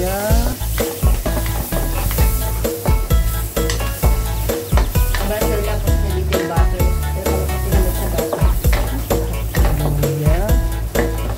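Butter and ginger sizzle and crackle in a hot pan while being stirred for mussel soup, with the spoon clinking and scraping against the pan throughout, close and steady.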